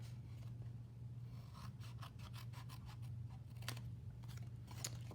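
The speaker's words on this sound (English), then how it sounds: "So I will get my scissors, and I like to cut it from the back." Scissors trim paper for a handmade treat pouch, giving a run of crisp, quiet snips and cuts over a steady low hum.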